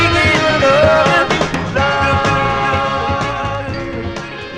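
A 1960s soul record plays steadily and loud from vinyl, full band with layered vocal harmonies, alone without any talk over it.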